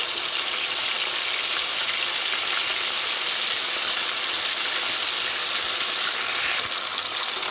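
Washed prawns sizzle in hot oil in a pan as they cook toward golden brown, a dense, even hiss that holds steady for several seconds with no voices.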